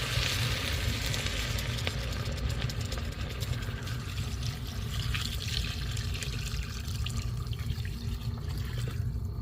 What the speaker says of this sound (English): add water, enough water to cover.